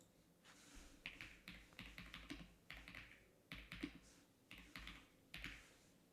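Quick bursts of keystrokes on a computer keyboard, typed in uneven clusters with short pauses between runs, close and fairly quiet with no talking.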